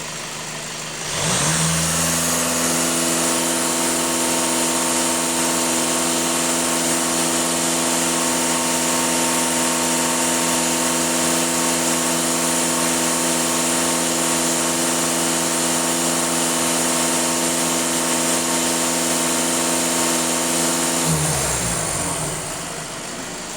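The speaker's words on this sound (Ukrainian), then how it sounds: "даю газ в пол, щоб побачити, скільки він дає" A VW Golf 2.0 TDI diesel engine is floored to full throttle after cleaning, rising quickly to a loud sustained high-rev roar with strong steady harmonics for about twenty seconds before dropping back to idle.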